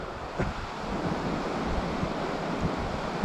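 Sea waves surround a temple standing in the sea off Vadhera village. The surf wash is steady and broad, and strong wind buffets the microphone, with no voices.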